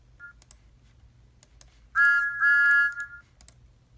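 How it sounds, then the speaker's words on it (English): Thomas the Tank Engine's whistle, a short toot followed by a louder two-part shrill blast lasting about a second, with faint clicks around it. "My whistle sounds like this."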